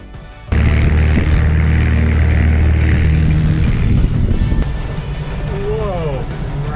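A tow plane's propeller engine pulls a glider, giving a loud, steady droning roar that cuts in abruptly and holds throughout while a voice talks over it.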